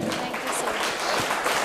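An audience at a spiritual talk breaks into dense, sustained applause, a continuous wash of many hands clapping with some faint voices mixed in.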